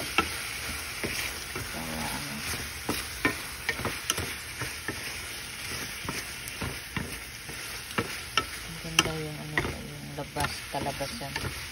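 Mushrooms being stir-fried in a pan, a steady sizzle under frequent clattering strokes of the spatula, with voices talking intermittently in the background.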